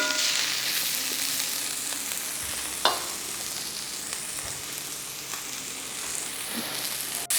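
Pumpkin pieces fry in oil in a pan for Sri Lankan tempered pumpkin with peanuts, a continuous close sizzle with occasional sharp pops and light scraping stirs.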